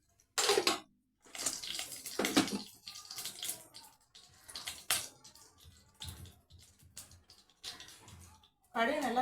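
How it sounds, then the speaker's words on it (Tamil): Mustard seeds crackling in hot oil for a vegetarian Tamil dish, a scatter of sharp pops and splutters in bursts with a quiet pause, a voice speaking over them. "கடுகு நல்லா பொரியட்டும்"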